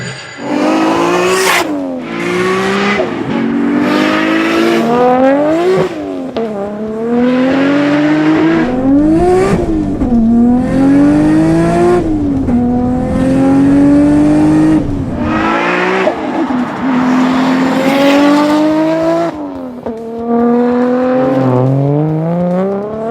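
Nissan Skyline R32 GT-R engine with a 3-inch exhaust revving hard over and over, pitch sweeping up and falling back in repeated loud bursts, close and continuous with no talk.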